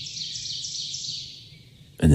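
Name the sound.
birds chirping in the morning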